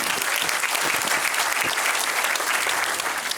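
Steady crowd applause fills a convocation ceremony hall, dense and continuous throughout with no break.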